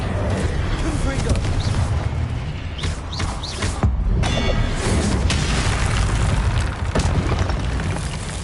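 Spell-casting explosions in the video game Hogwarts Legacy: repeated booming bursts and crackling blasts in quick succession, with a voice shouting spell names over them.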